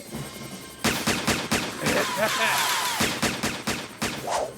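Cartoon gunfire from the Motu Patlu treasure race, a rapid burst of repeated shots in an even rhythm lasting several seconds. Animated voices talk underneath the firing.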